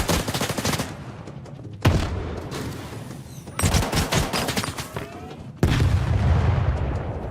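Heavy sustained gunfire in the video game STALKER 2, dense bursts of rapid automatic shots with booming impacts that cut off abruptly and restart in several loud, close sections, with no voices.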